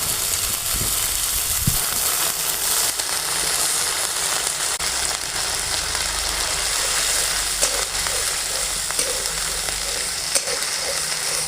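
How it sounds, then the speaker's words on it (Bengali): Spinach paste with nigella seeds fries in leftover hilsa-frying oil, giving a loud, dense, continuous sizzle and hiss, with occasional scrapes of stirring. "কালো জিরে দিয়ে পালং শাক বাটাটা দিয়ে ভালো করে কষাবো"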